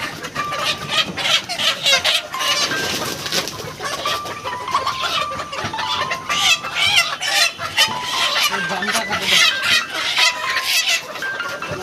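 Sonali desi chickens cluck and squawk in a dense, restless chorus as a buyer's crew catches them at a poultry farm, the flock's calls overlapping loudly and continuously throughout.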